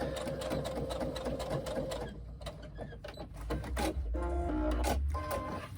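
A sewing machine stitches a seam on a tote bag, running in a rapid mechanical whir that pauses, then resumes loud and steady close by.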